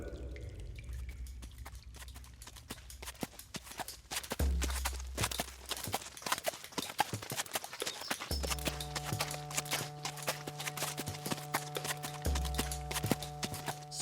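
A horse trots along at a steady rhythmic clip-clop, hooves striking close and clear for the whole stretch, with a low sustained drone underneath.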